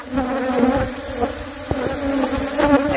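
A dense swarm of bees pours out of an RV, filling the air with a continuous loud buzzing drone, with individual bees zipping close by.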